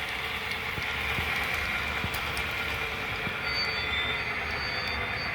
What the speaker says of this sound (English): we'll slow it down just a bit so you can hear the brake squeal.